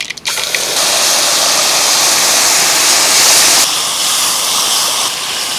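Ground red chilli masala paste hits hot oil already crackling with mustard seeds and curry leaves, bursting into a loud, steady, broadband sizzle that roars on without pause.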